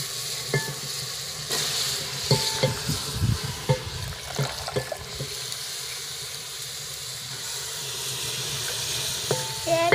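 Spices sizzle steadily in hot oil as cauliflower goes into the pan for a home-cooked curry, with clattering utensil knocks and stirring over the continuous close frying hiss.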